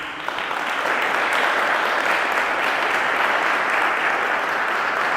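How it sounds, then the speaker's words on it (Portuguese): Church congregation applauding steadily and loudly throughout, a dense even wash of clapping from many hands with no pauses and no speech over it. "Você pode aplaudir a Jesus por isso?"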